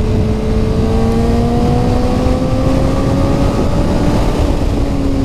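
A Honda CBR 600 RR sport motorcycle fitted with a Shark exhaust, its engine droning loudly and steadily as rising and falling tones track the revs, heard up close with no talking.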